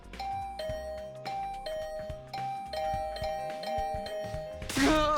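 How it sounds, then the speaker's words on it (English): Doorbell in the video game The Hundred Line -Last Defense Academy-, rung over and over in a rapid insistent chime pattern, clear and close, ending in a louder burst. "Getting the hint that this assault on my doorbell would continue until I answered."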